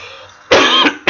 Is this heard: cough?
yes